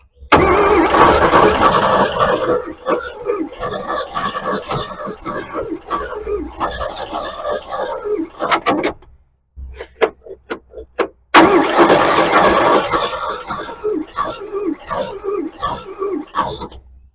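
An old Chevy 235 stovebolt engine cranks repeatedly on its starter in long bursts, a brief pause with a few clicks, then cranking resumes loud and close.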